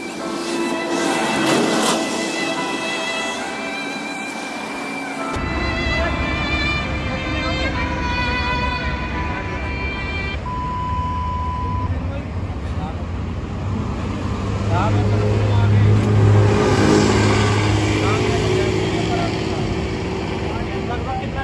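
Traffic jammed on a road at night, with cars and trucks crawling past: a steady, loud roadway rumble and engine drone, with people talking over it.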